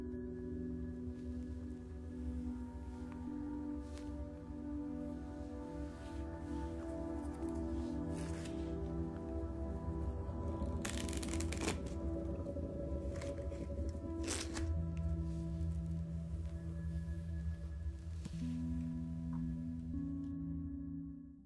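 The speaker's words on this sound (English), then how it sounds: "This is the vice shuffle." Playing cards are shuffled using the vice shuffle: quiet, soft riffling and rubbing, with a couple of sharper bursts near the middle over a faint steady hum.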